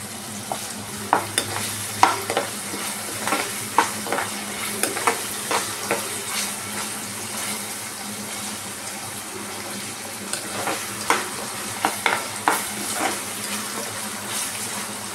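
Ginger garlic paste sizzles steadily in hot oil in a pan for a Bangladeshi-style basa fish dish, with repeated scraping stirs and clicks of the spoon against the pan throughout and no talking.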